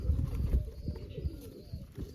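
Pigeons at a pigeon-keeping loft coo in low, rounded, repeated calls that pulse throughout, fairly close and steady, with no voices.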